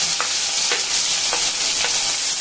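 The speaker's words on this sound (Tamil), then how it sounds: "2 வெங்காயம் நறுக்கி வச்சிருக்கேன்," Chopped onions and whole spices frying in hot oil in a pan for Tamil-style duck curry, a steady close sizzle with a few soft stirring scrapes, no talking.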